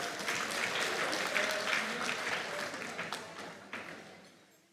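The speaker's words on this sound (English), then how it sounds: "Can you give them a round of applause, please?" A crowd at the Development Bank of Namibia's 20th anniversary gala applauds the technical team, an even, fairly distant wash of clapping that slowly fades away.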